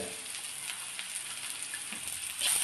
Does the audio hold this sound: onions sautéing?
yes